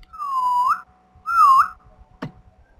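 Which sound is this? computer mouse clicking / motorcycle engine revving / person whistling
person whistling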